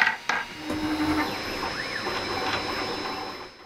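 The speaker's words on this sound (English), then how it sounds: "I'm going to try print the cubes again" JGaurora A5 3D printer printing test cubes: a steady mechanical hum with whirring, sweeping stepper-motor tones that rise and fall as the print head moves, plus a couple of brief clicks at the start, heard close.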